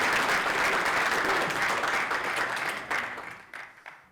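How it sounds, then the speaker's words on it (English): A conference audience at Meet Magento UK 2024 applauds a speaker with dense, sustained clapping that stays loud, then thins and fades over the last second. "please give Dan a big round of applause."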